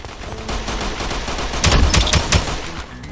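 Rifle fire in a Roblox shooter game cracks out in a brief cluster of sharp shots in the middle, over a steady layer of game background noise.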